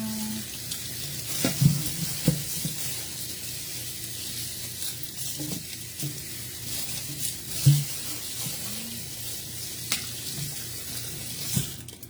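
Chop suey vegetables sauté in a pan with a soft, steady sizzle close by, broken by occasional clinks and scrapes of stirring, with no talk.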